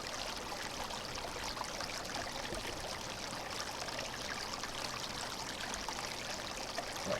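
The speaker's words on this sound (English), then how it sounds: "Now all I gotta do is just sit here and pump and fill the water bottle." Water pumped through a hand-operated survival filter into a bottle, a steady quiet trickling and splashing stream that runs unbroken throughout without voices.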